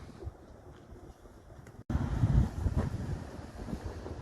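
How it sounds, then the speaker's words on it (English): Wind gusts buffet the microphone with a low, rumbling roar that swells halfway through, over faint outdoor background noise, on a downtown street in Branson, Missouri in January. "It's a beautiful day, but it is windy."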